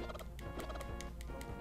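A chicken clucks in The Legend of Zelda: A Link to the Past, repeated short chiptune squawks sounding over steady game music.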